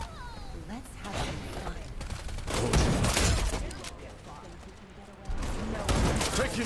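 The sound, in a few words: gunfire in the video game Wild Assault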